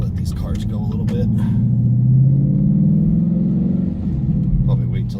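A car with a modified exhaust and catalytic converters, on a back road in Mexico, pulls under acceleration; a deep, loud rumbling exhaust note swells and holds steady from inside the car, then eases off.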